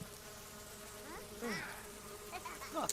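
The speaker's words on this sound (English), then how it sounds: "We've brought back roaches and flies" Flies buzzing around a trash pile in The Sims 4, a faint insect whine drifting and rising in pitch, with several swooping passes over a steady low game ambience.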